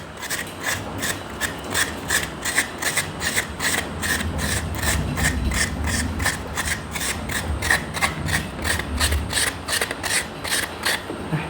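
Steady rhythmic rasping of food being grated by hand on a metal grater at home in Thailand, with repeated strokes running close and continuous throughout.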